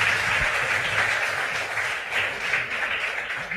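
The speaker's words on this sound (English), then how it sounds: "a hand of applause to them." An audience at a junior school quiz contest regional qualifier applauds the contestants, steady moderate clapping from a crowd with no talking over it.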